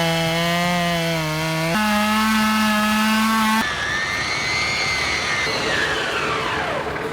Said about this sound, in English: I can feel it starting to pinch the chainsaw